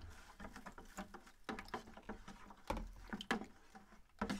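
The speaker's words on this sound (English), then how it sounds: "That's the sound of the potassium hydroxide boiling the water around it." Potassium hydroxide dissolving in water for NiFe battery electrolyte gives off a faint, close crackling fizz of irregular tiny pops and patters, steady throughout with no talk.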